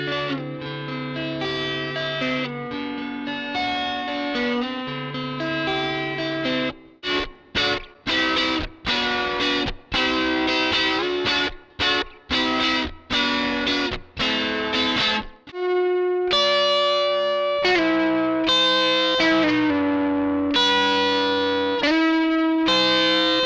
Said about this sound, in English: let's have a listen to what some of those guitar parts sound like soloed